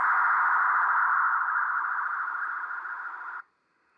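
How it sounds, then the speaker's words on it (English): A data signal tuned in on upper sideband through a Kiwi web SDR: a steady, loud buzzing tone holding for about three and a half seconds, then cutting off abruptly into silence. "Sounds like data."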